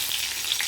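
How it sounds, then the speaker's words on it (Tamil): Curry leaves hit hot oil for a coconut chutney tempering and give a loud, close, crackling sizzle. The hiss is dense and continuous and carries no speech. "இப்போ கருவேப்பிலையை போட்டுடலாம்."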